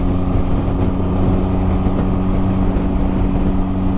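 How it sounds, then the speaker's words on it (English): The Benelli TRK 502 X motorcycle's engine runs steadily at idle, a loud, close, continuous low hum with an even rumble and no talk over it. "You can't ignore that this bike makes a lovely noise."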